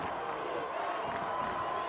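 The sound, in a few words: large crowd at a high school football game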